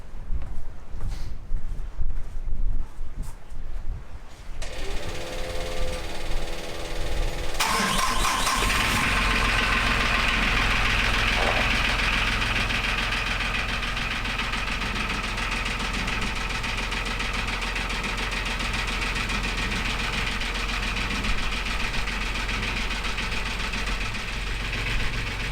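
An engine being tested cranks briefly, catches and settles into a steady, loud idle that drones on for around twenty seconds with no voices.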